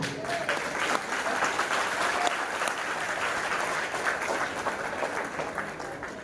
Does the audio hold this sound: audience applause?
yes